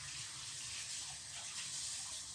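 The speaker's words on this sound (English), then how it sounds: "I'm going to just rinse the roots with room temperature water." Room-temperature water runs from a tap over the roots of a houseplant being repotted, a steady, soft hiss of flowing water that continues without a break.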